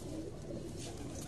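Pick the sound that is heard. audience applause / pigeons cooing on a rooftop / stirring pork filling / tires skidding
pigeons cooing on a rooftop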